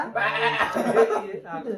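A goat bleats close by in a wavering, nasal cry, with a person's voice and a short chuckle mixed in.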